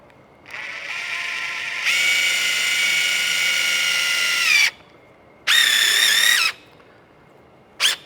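A power drill drives long screws through a board into a plywood floor while an RV end cap is repaired: a high whining motor in three bursts, one long, one shorter and a brief final blip, with quiet pauses between.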